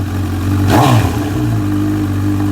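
A 2015 Honda CB1000R motorcycle fitted with an IXIL L2X Hyperlow aftermarket exhaust idles with a steady low rumble, then gets one sharp blip of the throttle that rises and falls back to idle, close and loud.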